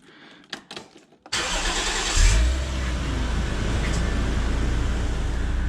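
A Toyota 1JZ-GTE engine fitted with a new intake cranks after a few clicks, fires up abruptly with a loud rise in revs, then settles into a steady, throbbing cold idle close by.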